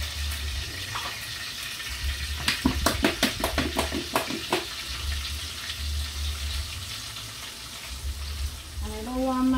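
Curry frying hard in a hot pot with scotch bonnet pepper and thyme, close and steady, with a burst of fast rhythmic scraping or stirring partway through and a brief clink near the end.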